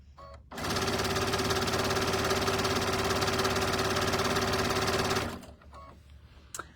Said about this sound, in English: while she's stitching down the long side